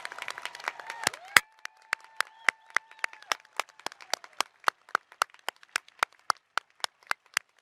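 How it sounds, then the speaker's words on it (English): Graduates at a 2021 humanities and social sciences commencement ceremony receive applause from a sparse audience: scattered individual claps ring out in an irregular, thinning rhythm, quite close and fading toward the end. "Please join me in applauding these graduates."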